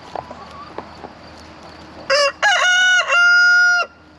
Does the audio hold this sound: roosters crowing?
yes